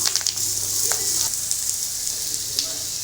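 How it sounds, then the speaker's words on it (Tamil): Onions and curry leaves frying in a pan, a steady bright sizzle with a few soft stirring clicks and pops near the start, no speech. "வெங்காயம் நல்லா வதங்கட்டும்."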